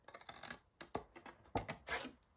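Scissors cutting through card about a quarter inch from a score line in a few crisp, uneven snips close by, quiet and without talking.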